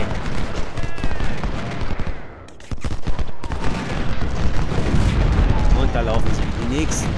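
Musket volleys and cannon fire crackle and boom in the Civil War battle game Ultimate General, fighting at Chancellorsville: dense rolling gunfire with heavy booms, a brief lull, then renewed firing, with faint voices mixed in.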